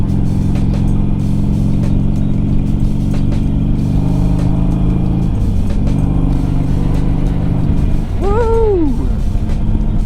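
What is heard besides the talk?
motorcycle engine during winter ride in South Dakota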